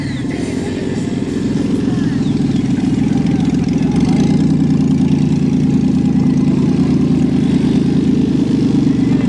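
Convertible car engine running steadily while cruising on a Sunday drive in Canada, a loud continuous low rumble and drone that swells slightly after the first second and holds close and constant throughout.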